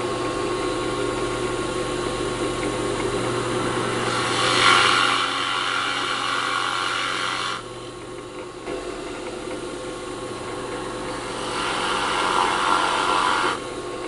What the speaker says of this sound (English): So get the drilling and then get the carving.